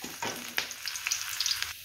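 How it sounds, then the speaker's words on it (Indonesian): Shallots frying in hot oil for a spicy sweet soy sambal, a steady close crackling sizzle with scattered pops and occasional stirring, no voices. "bawang digoreng"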